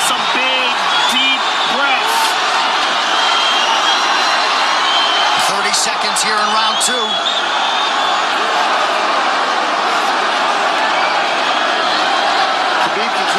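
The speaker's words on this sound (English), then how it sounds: "Crowd goes bananas as McGregor gets upright" Arena crowd at the UFC 229 fight, a loud continuous roar of cheering and whooping, with a commentator talking over it.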